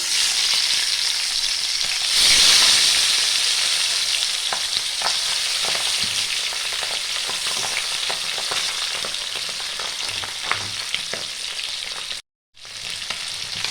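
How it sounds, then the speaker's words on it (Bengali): Steady, loud sizzling of pabda fish frying in hot mustard oil, close up, with scattered light clinks and a brief cutout near the end; no talking. "পাবদা মাছগুলো আমি একে একে ভেজে নেব।"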